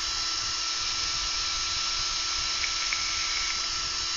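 Power drill spinning steadily while twisting wire, a loud continuous high-pitched whine with a constant motor hum and no breaks.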